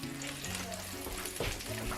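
Butter sizzles and crackles steadily in a hot pan with olive oil and fish oil for pan-seared salmon, a soft continuous frying hiss with a brief stir around the middle.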